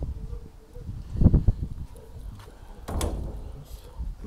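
A greenhouse door is shut and locked: a cluster of dull knocks and clunks of the door and latch, then a softer rattling thud a moment later, near and fairly quiet over room noise.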